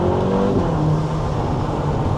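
A turbocharged Ferrari engine runs at a steady, fairly subdued level, a low droning hum with a brief higher rev at the start, carrying on alone with no talk.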